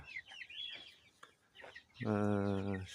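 Chickens on a farm in Uzbekistan: short soft clucks and chirps at first, then one loud, sustained squawking call near the end.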